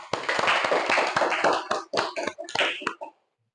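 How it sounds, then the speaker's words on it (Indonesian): Classroom of students clapping together, a close burst of brisk applause with sharp individual claps that thins into a few scattered claps before stopping abruptly. "berikan tepuk tangan yang meriah"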